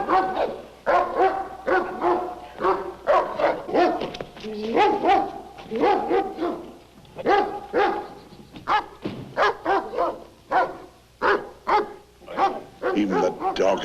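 A dog barks repeatedly in loud, close bursts with short yips and whimpers mixed in, an irregular rhythm of sharp barks.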